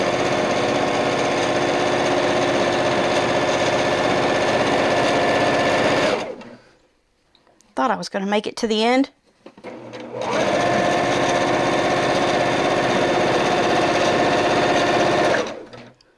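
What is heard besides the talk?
sewing machine stitching a long seam at high speed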